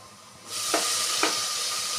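Chopped tomatoes tipped into a pan of softened onions frying in oil, setting off a sudden loud sizzle that holds steady, with two quick stirring scrapes partway through.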